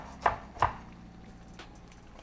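Fresh coriander being chopped for a garnish on a board, two sharp knife strikes close together followed by a few softer cuts, close and alone with no talk.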